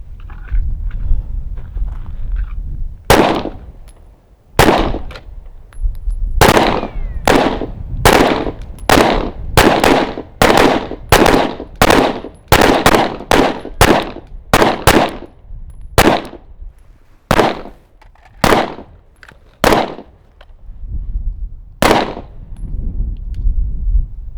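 Pistol shots at an outdoor shooting range, about two dozen sharp loud reports fired in an irregular series, some spaced out and others in quick runs, close and without talk between them.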